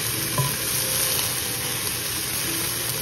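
Ginger and garlic paste sizzles and fries in a pan, a steady close bright hiss throughout with a faint stir or clink near the start.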